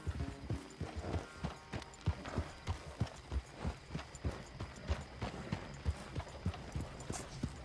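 Horse hooves clip-clop in a steady, fairly quick rhythm during a race in Red Dead Redemption 2, close and clear, with a brief whinny mixed in.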